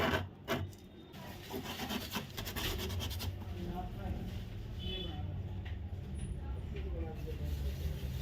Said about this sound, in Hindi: इसको भी हल्का सा रेगमाल से रगड़ के आप साफ कर लें।